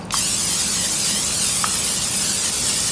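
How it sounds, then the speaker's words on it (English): Continuous hissing spray of cooking spray coating the bottom and sides of a 9-inch springform pan, one sustained close, loud burst lasting throughout, with no talking. "I'm gonna spray the bottom of a 9-inch springform pan"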